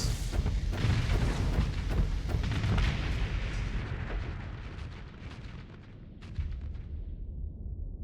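Rapid barrage of missile explosions from a space battle in the game Starsector, dense booming blasts and crackling bursts rolling continuously and loud, thinning slightly toward the end with a few renewed impacts.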